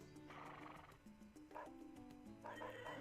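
A horse neighs and whinnies in an open-world FPS video game, a loud drawn-out call rising and falling in bursts over game ambience, with no talking.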